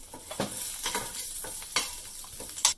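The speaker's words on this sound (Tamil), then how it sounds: "ஒரு மிளகாய் ரெண்டாய் பிச்சு சேர்த்துருக்கோம் அதுக்கப்புறம் கொஞ்சம் கருவேப்பிலை இப்போ நல்லா வதக்கிடலாம்" Peanuts, dal, cashews, torn red chili and curry leaves stirred and sautéed in a pan for a Navarathri prasad, a soft crackling sizzle with scraping stir strokes and a few sharper ticks, fairly quiet and without talk.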